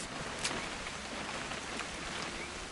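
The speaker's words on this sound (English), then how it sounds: "It's gonna rain the whole weekend, isn't it?" Steady rain falls in the video game What Remains of Edith Finch, a soft, even hiss with faint scattered drops, quiet and unbroken throughout.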